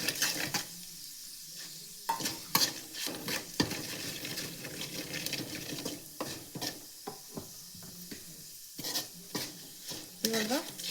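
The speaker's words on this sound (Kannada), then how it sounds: "ಇವಾಗ ಇದಕ್ಕೆ ಅರಿಶಿನ 1 ಸ್ಪೂನ್, ಖಾರದ ಪುಡಿ 1 ಸ್ಪೂನ್ ಇದನ್ನು ಹಾಕ್ತಿದ್ದೀನಿ" Turmeric and chili powder fry in oil in a pan while being stirred, with scraping and clinking of a spoon against the pan in uneven bursts over a steady background sizzle, close and moderately loud, with no talking.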